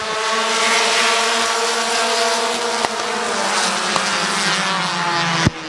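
Stock cars at Midvale Speedway roar together as an eight-lap heat race goes green, a loud, dense engine drone with rising pitch and a couple of sharp clicks, no voices.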